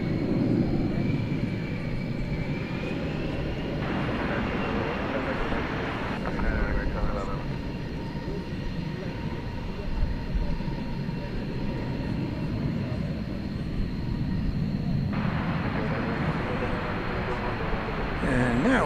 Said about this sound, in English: A leisurely liftoff